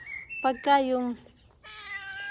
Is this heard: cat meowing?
yes